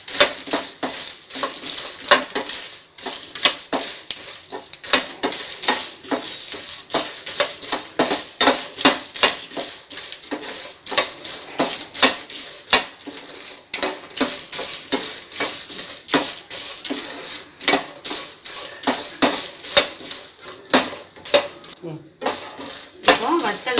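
Vathal, dried vegetables, frying in oil in a pan, with steady sizzling under repeated clinking and scraping of a metal utensil against cookware, close and fairly busy throughout.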